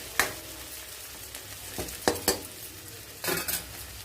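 Fried onion pieces stirred in a pan with a utensil, giving a few distinct scraping, clattering strokes at irregular intervals over a soft background sizzle, with no talking.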